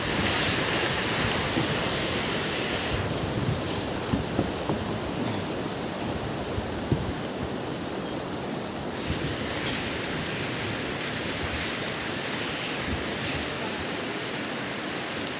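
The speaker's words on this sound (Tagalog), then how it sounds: "Sobrang lakas ng tubig." Strong rushing water in a frightening outdoor setting, a loud, dense, continuous roar of turbulent flow with some wind buffeting the microphone, sustained without pause.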